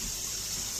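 Water runs steadily to rinse slime left by a snail off the walls of its plastic container, a continuous close gush and trickle with no talking.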